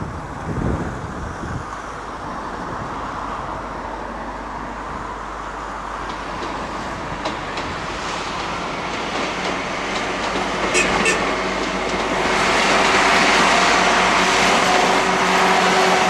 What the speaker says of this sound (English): The Class 158s terminate at Cambridge and return to Birmingham